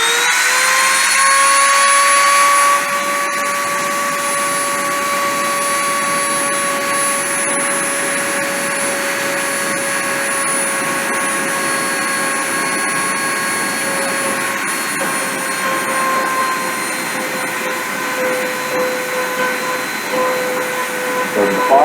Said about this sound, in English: I'm going to go ahead and turn the dremel on